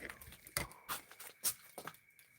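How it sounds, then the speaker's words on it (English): Water dripping from a leaky rain gutter after rain has stopped, heard as a few separate close drops and taps at an irregular pace against a quiet outdoor background. "it's just water dripping here from a drippy rain gutter"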